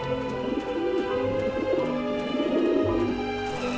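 Pigeons coo steadily in the video game Grim Fandango, soft overlapping throaty calls rolling on continuously over a low ambient background, with no voices.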